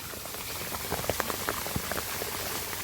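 Steady monsoon rain in a Punjabi village patters on a hard surface, a dense hiss with scattered individual drops ticking through it, fairly close and continuous.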